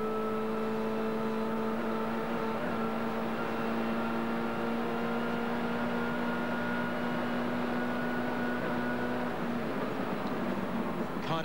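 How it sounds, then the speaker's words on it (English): A V8 race car engine howls at full throttle in the 1995 Bathurst 1000 Top 10 Shootout, a sustained loud drone with steady harmonic tones held for about ten seconds, then a brief shift near the end. "Listen to the V8 work."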